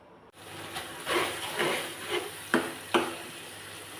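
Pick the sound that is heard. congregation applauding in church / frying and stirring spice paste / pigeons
frying and stirring spice paste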